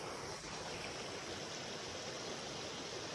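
Released water rushes steadily along an outdoor stream, a dense even broadband wash with no breaks, heard alone and moderately close.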